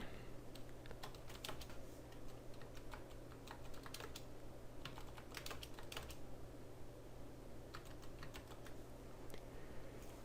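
Keys clicking on a computer keyboard in quick, irregular bursts, faint and close, over a steady low hum, with no one talking.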